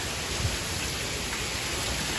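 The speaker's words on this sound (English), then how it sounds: "Oh, we got hail. Getting hailstones. Pea-sized, I'd say." Pea-sized hail pelts down in a monsoon thunderstorm with heavy rain and strong wind, a dense, steady hiss and patter that fills the whole stretch, loud and close with no voices.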